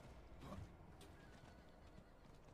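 A horse in the Diablo 4 video game gives a faint, distant whinny, accompanied by soft clip-clop hooves over a low, continuous ambient background.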